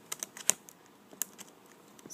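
Laptop keyboard keys clicking as a key is seated and snapped back onto its metal hooks, a few sharp, close plastic clicks at irregular intervals with no talking.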